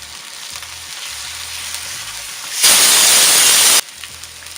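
Garlic paste hits a pan of soft fried onions with a sudden loud sizzle that bursts up for about a second, over a quieter background hiss.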